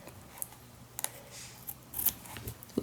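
Scissors trimming scrap fabric for a Midori-style journal cover, a few quiet, sparse snips and rustles spread apart in a hushed room.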